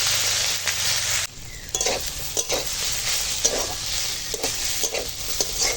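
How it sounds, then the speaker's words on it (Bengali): Taro greens cooking with hilsa fish head, turmeric and salt, stirred in a hot pan: a loud continuous sizzle broken by repeated scraping spatula strokes, close up. "এবার সব একসঙ্গে রান্না করে নেব"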